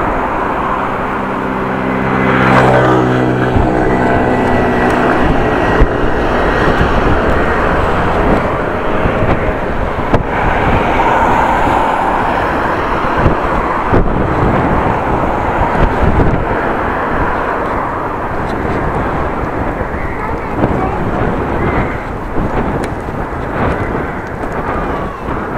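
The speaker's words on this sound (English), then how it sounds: "And I have a little headwind again." Wind roars steadily across the microphone while cycling through the city streets of Groningen into a light headwind, a loud continuous rush with low buffeting and faint traffic behind, no talk.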